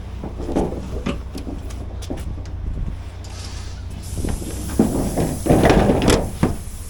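Panels are shut on a new MAN TGX truck: a series of knocks and thuds, a sliding rumble, and a louder cluster of bangs near the end over a low steady engine hum.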